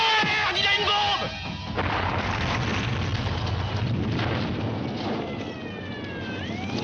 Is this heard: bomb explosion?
yes